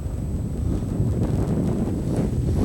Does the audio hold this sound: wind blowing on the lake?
yes